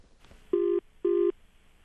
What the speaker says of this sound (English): I called the Kura today